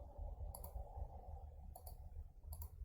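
Three short bursts of keyboard typing clicks sound at near-even intervals, faint and close, over a low background hum with no talking.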